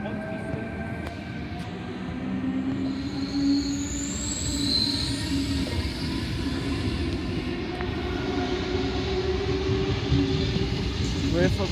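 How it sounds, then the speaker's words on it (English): Sydney suburban train departing Concord West station, a steady rumble of wheels on rail with squealing and rising motor whine, close and continuous, with a voice briefly speaking over it. "Central via Strathfield service, arriving at platform number 2, and train departing."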